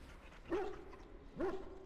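Two separate dog barks from a video game, spaced about a second apart, moderately loud over a low background hum.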